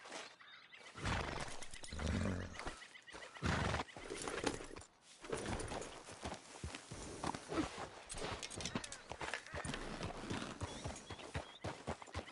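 Horse sounds from Red Dead Redemption 2: steady clip-clop of hooves and loud neighs and whinnies run through the whole stretch, close and busy, with no talk.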